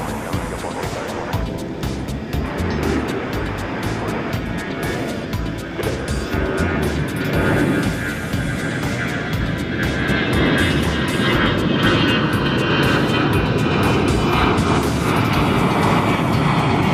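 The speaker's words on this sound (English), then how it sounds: "you hear those planes taking off" Planes taking off at DFW Airport at night, a sustained loud jet engine roar building over many seconds, broad and rumbling like distant surf.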